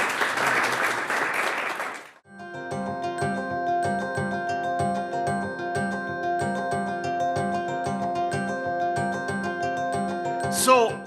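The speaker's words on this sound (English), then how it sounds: "Warm round of applause" Audience at a university library book discussion applauding a professor's introduction, a brief loud round of clapping lasting about two seconds that stops abruptly as a piano-like musical piece takes over for the rest.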